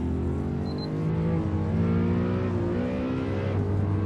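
A Ford Mustang engine in the Assetto Corsa racing game in traffic, a loud steady drone held near, rising and shifting in pitch as it revs through gears, with no talk.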